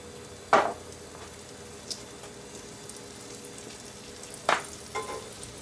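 Food frying in a freshly seasoned cast iron pan on a kitchen range: a faint steady sizzle with two sharp spitting bursts spaced several seconds apart, plus a few smaller pops.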